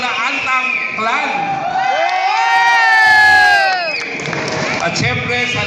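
Cheering rises at an outdoor family reunion, with shouts and whoops swelling to a loud peak and then fading. A crowd mixes with a voice on a loudspeaker.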